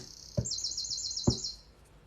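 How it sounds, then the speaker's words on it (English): Birds chirp outdoors in a rapid, high twittering run of repeated notes, moderately close, with two soft knocks underneath and no talking. "Y'all hear the birds?"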